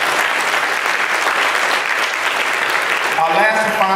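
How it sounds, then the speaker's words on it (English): Steady, dense applause from an audience at an honoree recognition event, loud and sustained for several seconds, fading near the end as a voice begins speaking over it. "give them a round of applause"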